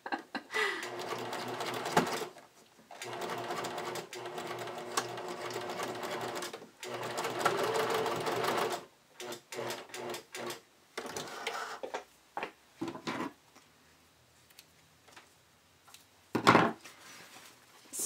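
A sewing machine stitches snap tape in bursts of rapid mechanical whirring, stopping and starting with short pauses and a few isolated clicks, close and moderately quiet.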